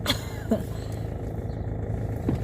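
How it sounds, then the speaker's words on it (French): Small moped putters past nearby with a thin, buzzing engine note over a low steady rumble, brief and moderately loud against background street noise. "Ah, c'est pas une moto ça, c'est une mobilette."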